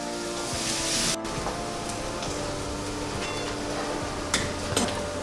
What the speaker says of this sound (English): we'll add in some onions. The more the onion, better the taste. Make sure the onion doesn't turn brown.